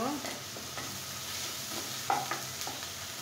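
Onions frying in a pan: a soft, steady sizzle with occasional light scrapes and clinks of stirring, quiet and close, with no talking.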